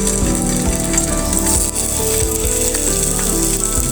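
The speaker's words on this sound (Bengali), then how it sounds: "তেল গরম হয়ে গেলে আমি মাছ দিয়ে দিব।" Small jatka fish, heads removed, frying in a little hot oil in a pan, with a loud, steady sizzle and crackle that runs throughout without pause.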